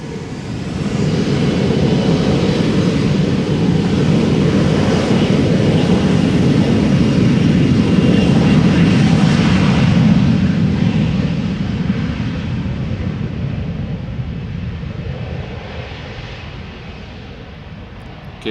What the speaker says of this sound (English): So this is another Embraer 175 from KLM